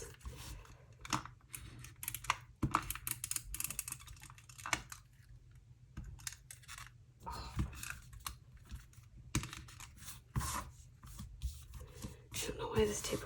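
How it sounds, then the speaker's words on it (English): A tape roller runs across a birthday card in a close, quiet series of short clicks and scratchy taps, irregular in rhythm, with occasional low speech in the room. "I don't know why this tape roller is acting up all of a sudden."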